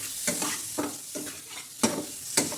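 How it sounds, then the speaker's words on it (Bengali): Cubed chicken is sautéed in a pan for a pizza topping, a soft sizzle broken by a regular series of about six spatula scrapes and stirs, close and moderately loud. "এবার এইটাকে আমরা একসাথে ভালোভাবে কষবো"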